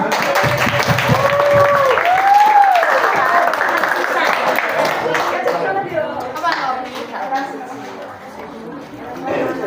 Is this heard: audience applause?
yes